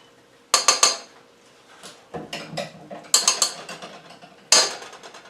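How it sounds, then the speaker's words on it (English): A metal pot being banged to knock mac and cheese off a utensil, in bursts of three or four sharp clanks with quieter scraping and rattling between, close and loud with no talking. "Sometimes you gotta bang to get food off."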